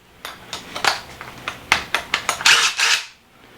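A DeWalt DCF887 impact driver bores through wood with a 1.5 inch spade bit, producing a quick series of sharp metallic rattling bursts that rise to a dense clatter before cutting off.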